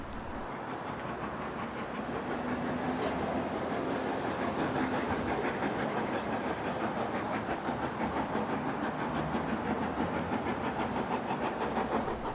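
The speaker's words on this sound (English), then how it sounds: "Leander arrives at Bury Bolton Street station with a shuttle train returning from the works at Buckley Wells." Steam locomotive 45690 Leander rolling into Bury Bolton Street station with a shuttle train, a steady, dense rumble of wheels and carriages with faint clickety-clack, sustained and fairly close throughout.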